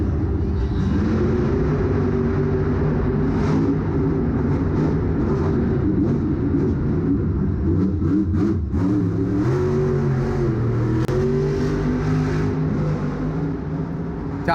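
The Grave Digger monster truck roars through a Monster Jam run inside the Ford Field arena in Detroit, its big engine revving hard and continuously, loud and sustained, with pitch swells as the throttle works.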